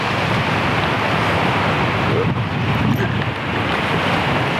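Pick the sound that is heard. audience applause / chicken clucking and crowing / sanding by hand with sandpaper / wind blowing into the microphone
wind blowing into the microphone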